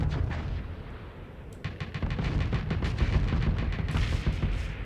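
Ship explosions in the space combat game Starsector, a dense run of loud booming blasts and crackling detonations in quick succession, swelling louder partway through with a sharp burst near the end.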